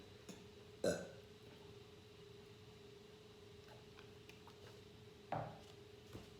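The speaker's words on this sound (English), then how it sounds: "at this point in time, you get the burps" Two distinct burps from a woman sit a few seconds apart over a steady low hum, each short and fairly close, with otherwise quiet room tone.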